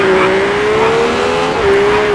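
A rally car engine in the V-Rally 4 racing game holds a loud, steady high-pitched drone with slight pitch wavering and a tire-noise hiss, with no talk.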